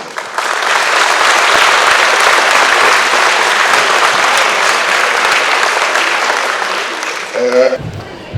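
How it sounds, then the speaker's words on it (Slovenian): Loud, dense applause fills a sports hall at a karate tournament, honoring the organizers. It holds steady for several seconds, fades toward the end and is followed by a brief voice. "Pa bi prosil en aplavz za vse organizatorje v telovadnici."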